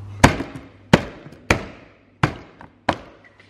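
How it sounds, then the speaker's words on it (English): Aftermarket axle tips on a BMW E36 being banged into place by hand in a garage: five sharp, loud, close knocks, spaced roughly half a second apart, each ringing briefly before dying away, with no talk. "Bang them in."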